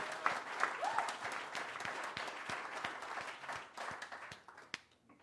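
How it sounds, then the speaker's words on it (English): An audience at the Freedom First Concert in Cleveland, Ohio, claps loudly at first, then the applause thins into scattered claps and dies away. "Give her a big round of applause, everybody."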